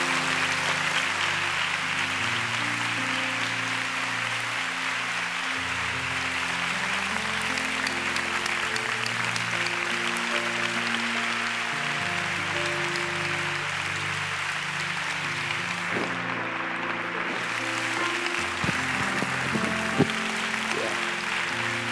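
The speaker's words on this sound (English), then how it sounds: "Can you just give them a big clap as they come right now?" Sustained applause from a church congregation greeting four young men coming up to a stage for an ordination ceremony, a dense steady wash of clapping that fills the whole stretch at even loudness without speech.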